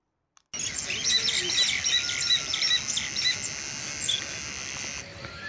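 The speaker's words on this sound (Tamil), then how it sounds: "அந்த குருவிலாம் கத்துது" Sparrows chirp in a tree, a dense chorus of high, quick tweets starting abruptly and continuing steadily, moderately near.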